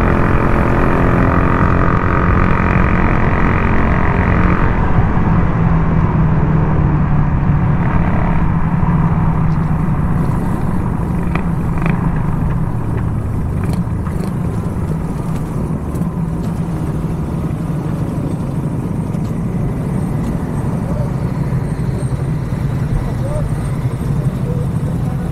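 A Suzuki R150 motorcycle cruising along Aguinaldo Highway during a group ride, with a steady engine drone and rushing wind roar that stay loud and close throughout, easing slightly after the first few seconds.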